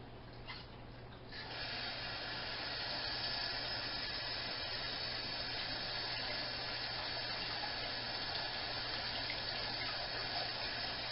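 Tap water runs steadily into a bowl of rice for makgeolli brewing, with a hand breaking up the stream, a continuous close rushing and splashing after a brief start.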